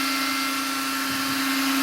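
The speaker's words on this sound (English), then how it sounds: "Servo for the steering. Yep, looks like it's got enough power to do its job." Steering servo on a ZD Racing EX-07 RC car whirring steadily indoors, a close, continuous motor drone with a constant tone and no talking.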